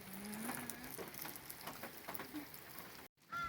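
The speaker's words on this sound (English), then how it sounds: "And it's unfortunately still raining." Outdoors during a storm, rain patters and crackles on surfaces in close, irregular bursts, cut off by a brief silence near the end before resuming.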